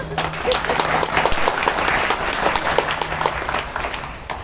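Loud applause from an audience at a kirtan devotional gathering, dense steady clapping filling the room throughout, with faint voices under it.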